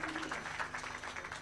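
Audience at an International Youth Day 2024 event applauds a speaker, a steady clatter of many hands clapping at moderate volume throughout, with a faint hum underneath.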